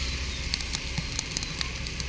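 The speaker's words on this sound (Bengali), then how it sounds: "আমি টমেটোটা একটু নেড়ে চেড়ে নিচ্ছি, তলায় লেগে গেছে।" Tomatoes frying and being stirred in a pan over a village fire of burning leaves, with a steady crackling sizzle and scattered sharp pops and scrapes close by, and no talking.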